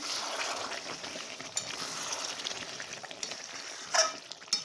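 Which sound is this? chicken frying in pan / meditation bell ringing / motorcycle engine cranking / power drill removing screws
chicken frying in pan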